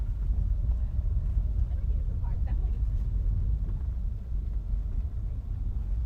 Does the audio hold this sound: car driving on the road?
yes